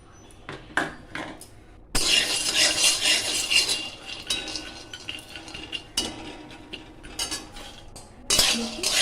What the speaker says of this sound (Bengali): সেমভাবে আমি বাদামগুলো ভেজে নেব, চিনি বাদামগুলো।